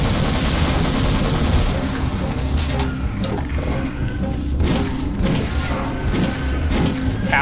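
Dense, continuous gunfire and crashing from the Half-Life mod Insecure fill the whole clip at a steady loud level, with repeated sharp blasts from a shotgun and other weapons layered over rumbling game noise.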